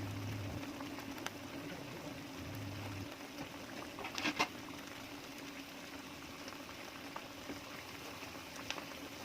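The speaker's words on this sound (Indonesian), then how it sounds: "Masukkan ayamnya lalu direbus sampai keluar kaldu." Chicken simmers in a pot of seasoned broth for clear yellow soto, a faint, steady low bubbling with a few soft splashes, heard alone and close.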